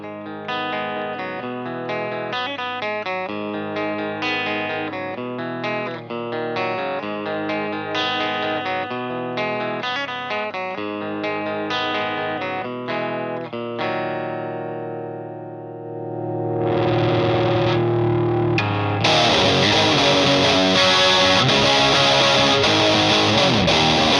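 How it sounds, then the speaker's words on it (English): A distorted electric guitar played through an isolated Celestion V30 speaker chugs a steady riff of choppy chords, then gives way to a swelling, sustained noisy wash near the end, loud and dry, with no talking. "Isolate the V30 now."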